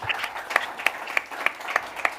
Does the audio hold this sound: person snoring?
no